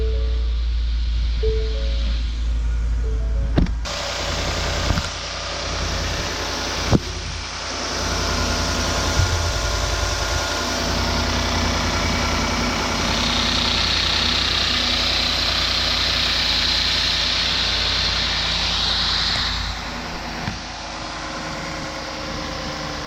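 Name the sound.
2019 Ford F150 engine started and idling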